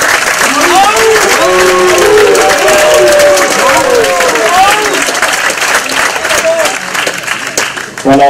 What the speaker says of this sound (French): Je pense qu'il mérite un big up, un beau applaudissement.